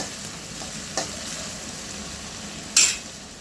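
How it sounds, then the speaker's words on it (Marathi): Onions sautéing in a pan until golden: a soft, steady sizzle with a couple of brief utensil clicks, the second one sharper. "आता याला परतवायचं आहे छान याचा हलकासा सोनेरी कलर येतपर्यंत"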